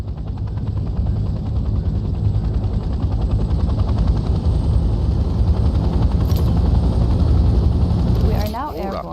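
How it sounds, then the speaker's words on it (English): A helicopter in the Vietnam war video game Hell Let Loose flies with a loud, continuous, throbbing rotor drone that fades near the end as a voice briefly comes in. "We are now airborne. Let's get familiar with the 3 primary helicopter rotations."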